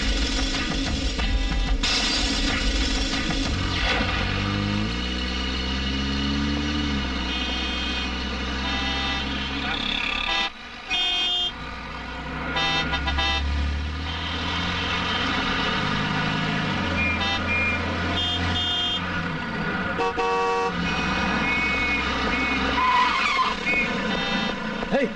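Cars and trucks jostle at a red traffic signal, engines revving and tires skidding in a busy, loud mix, with voices talking over the noise throughout.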